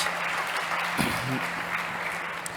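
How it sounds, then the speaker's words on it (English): Audience applause at a startup competition, a steady wash of clapping heard at moderate distance throughout, with a brief low voice or thump partway through. "Big applause for Mikael."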